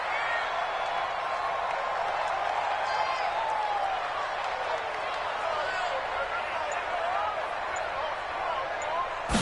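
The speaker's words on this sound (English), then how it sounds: "the crowd getting into it as we come up on a big 3rd down" A steady roar from a stadium crowd in a PS4 football game swells under a commentator's voice and holds at a constant level throughout.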